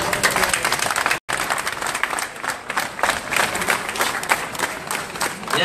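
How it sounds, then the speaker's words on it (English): Students at the University of The Gambia burst into loud, sustained applause for Professor P L O Lumumba, dense clapping from a large crowd filling the hall with a brief cut near the start. "One more round of applause."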